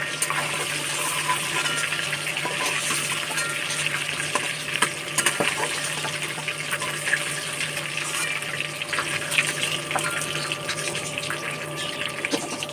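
Fish frying in hot oil give a continuous loud crackling sizzle, with scattered pops and spatters over a faint steady hum, going on steadily throughout without talking.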